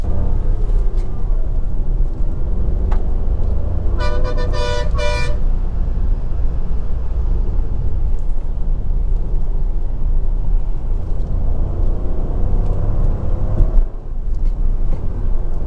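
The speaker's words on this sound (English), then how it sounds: "I also really love the sound of this vehicle." A Hyundai i20 iMT drives steadily through a turn with a constant low engine and road rumble; a short horn toot sounds partway through.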